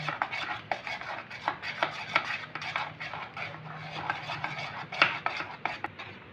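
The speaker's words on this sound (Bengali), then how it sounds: "ব্যাটারটাকে কিন্তু খুব ভালো করে ফেটিয়ে নিতে হবে এইভাবে।" Ripe mango fritter batter thinned with milk is beaten briskly in a bowl, a quick, steady run of close, wet slapping and scraping strokes with no talking.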